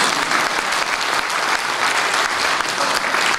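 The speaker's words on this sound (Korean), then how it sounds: "여러분 뜨거운 박수 부탁드립니다" Steady, dense applause from a large crowd of around 500 at a founding ceremony for a Chungcheong civic forum, sustained at even loudness throughout.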